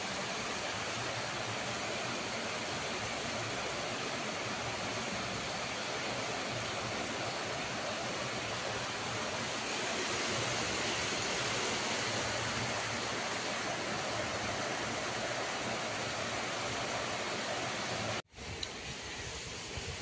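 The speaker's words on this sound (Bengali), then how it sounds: "সকাল থেকে বৃষ্টি হচ্ছে।" Steady, even hiss of rain falling without pause, continuous and fairly close, cutting off abruptly near the end.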